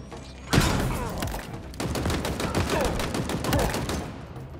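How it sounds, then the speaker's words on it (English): Rapid gunfire from a Stalker rifle in the Halo Infinite campaign, a dense, loud stream of shots that starts abruptly and keeps going, with a short break partway through. "Stalker rifle!"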